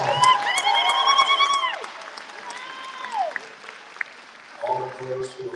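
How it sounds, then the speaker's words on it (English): An audience at the opening of New Jersey's first purpose-built film and TV production studio claps loudly, with whoops and cheering voices over it. The applause fades, then swells again near the end. "give yourself a big round of applause"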